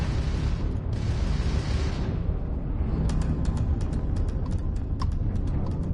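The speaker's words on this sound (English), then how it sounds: "that's a Crimson Fleet ship bringing its weapons to bear" Starfield space combat as a Crimson Fleet ship opens fire: a dense, loud, continuous rumble of engines and blasts, with a rapid volley of sharp weapon shots peppering the second half.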